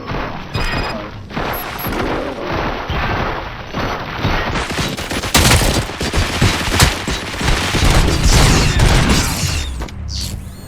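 Volley of gunfire in the RoboCop: Rogue City video game, a dense, loud, continuous barrage of shots and booms with crashing impacts that runs across the whole stretch.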